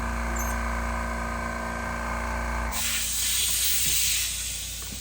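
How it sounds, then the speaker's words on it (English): An air compressor left on overnight and holding moisture lets out a loud, close hiss that bursts to a stronger rush partway through and then steadily fades. "I left my compressor on, like, overnight. That's not supposed to do that. It means there's a bunch of moisture in it."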